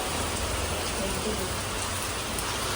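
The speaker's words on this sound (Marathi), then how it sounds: "आता पाऊस आला म्हणून मी इथे येऊन थांबलो आहे" Rain falling steadily, a dense even hiss of drops on surfaces, continuous and moderately loud with no talk.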